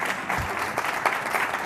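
An audience at a downtown civic talk applauds Joe Marinucci with a steady patter of many hands clapping at moderate volume, sustained throughout.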